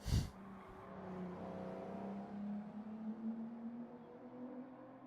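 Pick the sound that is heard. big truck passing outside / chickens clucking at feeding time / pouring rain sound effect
big truck passing outside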